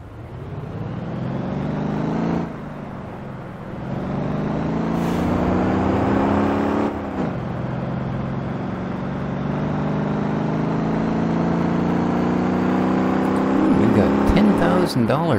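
A mini-bus engine in the driving video game Motor Town drones steadily and loudly throughout, its pitch climbing and dropping back at gear changes, with an accelerating surge near the end.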